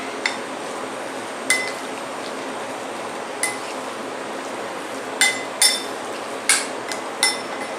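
A spoon clinking against a bowl while a raw vegan sauce is stirred, with scattered sharp taps and clicks, several clustered near the end, over a quiet room.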